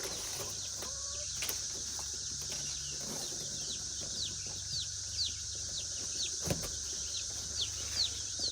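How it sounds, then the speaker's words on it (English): A box of newly delivered chicks gives a steady stream of high, rapid peeping. Soft rustles and scrapes from inside the box sit under the calls, and no voices are heard. "Looks like we got a box of chicks."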